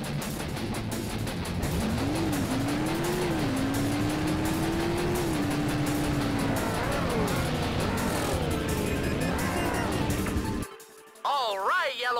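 A race car engine in the Hot Wheels World's Best Driver video game droning steadily and loudly, its pitch climbing and sliding as it revs, with game music and effects layered over it before it cuts off near the end.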